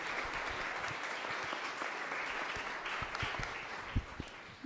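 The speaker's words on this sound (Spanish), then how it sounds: "vamos a recibirla, por favor, con un fuerte aplauso" Sustained audience applause welcoming the author at a Spanish-language book presentation, a dense steady clatter of many hands clapping throughout with a few sharper individual claps near the end.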